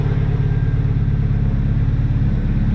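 A Nissan 240SX engine starts and idles with a steady, loud low rumble and a slight rhythmic throb throughout, close up.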